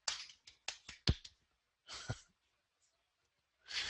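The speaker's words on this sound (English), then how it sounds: "I have to do a golf clap" Quiet golf clap from a host alone in an early-morning radio studio: a handful of soft, sparse claps in a loose rhythm, then a pause and a few more, close and gentle with no talk over them.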